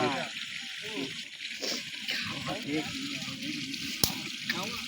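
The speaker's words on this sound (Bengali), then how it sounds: "এখন আমরা মশলা কষাচ্ছি" Spices sizzle and fry steadily in a pot for biryani, a continuous wet crackle with a sharp clank near the end, while people talk nearby over the cooking.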